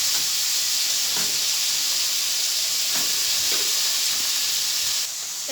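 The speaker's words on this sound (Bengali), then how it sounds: "এই যে মা এখন এইগুলো গাজর, বিনস আর আলুকে ভেজে নেবে" Carrots, beans and potatoes frying in a wok give a steady, loud sizzling hiss throughout, with a few faint stirring knocks and no talking.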